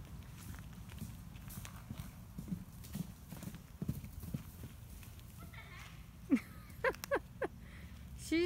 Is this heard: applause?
no